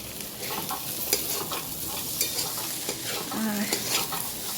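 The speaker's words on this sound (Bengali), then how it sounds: "এই আলু ভাজছি" Potatoes fry in a pan, sizzling steadily and close up, with occasional scrapes and clinks of stirring.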